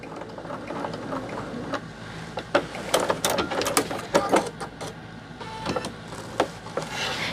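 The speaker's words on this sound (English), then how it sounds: "Let's do a back stitch there to tack that down real good." A sewing machine back stitching to tack down the end of a zipper, giving uneven bursts of fast mechanical needle clatter over a low motor hum, close and fairly loud with short pauses between runs.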